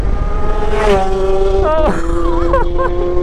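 Kawasaki H2 Carbon motorcycle with an SC Project exhaust pulls up close by, its engine note rising and falling in loud revs and shifts while a person exclaims over it.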